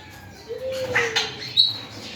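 Lutino ringneck parakeets, a breeding pair, in an aviary give brief chirps and a faint squeak over quiet background rustle, a couple of short calls standing out near the end.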